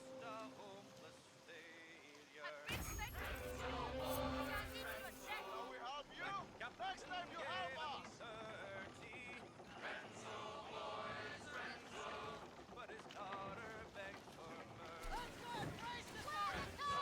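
Wooden sailing ship in the game Skull and Bones pushing into the wind, with steady wind rush, creaking and water wash under constant game sounds, music and a speaking voice throughout after a quieter opening.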